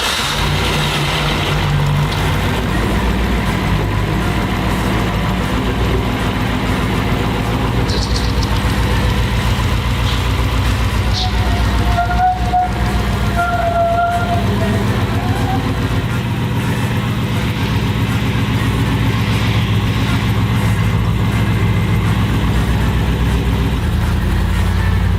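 The Spud Truck's engine idles with a steady, close, low rumble while the truck is pulled out and around, loud and unbroken throughout.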